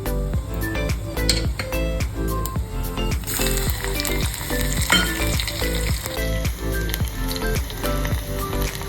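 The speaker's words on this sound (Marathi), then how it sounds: "तेल तापलंय मस्तपैकी, आपण जिरं टाकतोय." Cumin seeds sizzle steadily in hot oil with curry leaves in the pan, a dense continuous crackle with repeated sharp pops and the light clink of a spoon stirring throughout.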